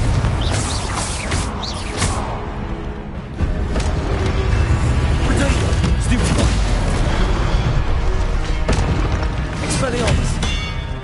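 Blasting spell explosions from the Confringo curse in Hogwarts Legacy, loud repeated booms and crackling impacts layered over dense game music and effects, with a voice calling out spells throughout.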